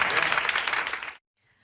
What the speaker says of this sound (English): did you see the others clapping there like deranged seals?